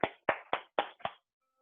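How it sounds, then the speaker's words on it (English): Five sharp hand claps in a quick, slightly uneven rhythm from one participant in an online fitness class, close and clear, then silence. "give yourself a clap"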